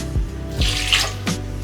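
Apple cider is poured into a mixing bowl for a bread dough, a brief liquid splash and trickle in a few short bursts, close by and fairly loud.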